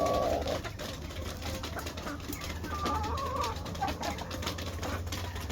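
Large hens and roosters in a poultry yard cluck and call near and far, with repeated squawks and short cries over a steady background hum and no talking.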